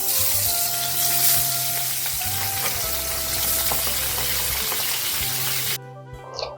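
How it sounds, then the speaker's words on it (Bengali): Black cumin and dried red chilies sizzle in hot mustard oil left over from frying fish, a steady loud crackling fry close up that cuts off abruptly near the end. "একই তেলের মধ্যে দেখো মাছ তুলে নেওয়ার পর কালো জিরে আর শুকনো লঙ্কা দিয়ে দিলাম।"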